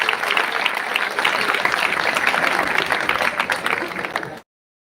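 A church congregation gives the parish priest a sustained round of welcoming applause, a dense, loud wall of many hands clapping together for about four seconds before it cuts off abruptly.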